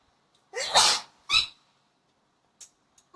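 A single sharp sneeze during a spicy blue crab mukbang, fairly close and loud, followed by a shorter second burst and a few faint small sounds afterward, with no talking.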